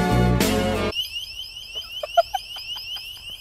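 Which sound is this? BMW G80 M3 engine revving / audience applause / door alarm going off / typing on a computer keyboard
door alarm going off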